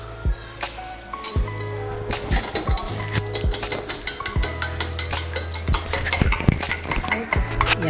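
A mixture for egg parotta momos is stirred in a bowl, with a spoon knocking and clinking against the sides in quick, uneven taps at close range.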